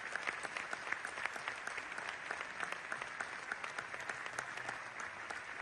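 An audience at the Cannes festival applauds, a faint, dense patter of many hands clapping at once with a steady, sustained texture and a few sharper individual claps standing out across the whole stretch.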